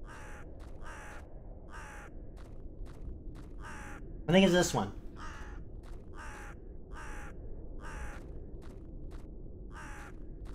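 A crow caws from a tree in a video game, sharp repeated calls in an even rhythm throughout. A person speaks briefly in the middle of the calls.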